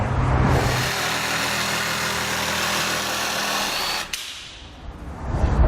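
A power tool trims Sentry Deflector panels for a Demco and etrailer tow bar setup on a 2018 Jeep Wrangler JL, a loud steady whine and grind running for about four seconds before cutting off abruptly.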